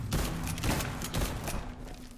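Repeated gunfire from a first-person shooter, Liberated, in a parking lot fight: a dense string of sharp shots in quick succession with low thumping body, loud and close, steady throughout with no talking.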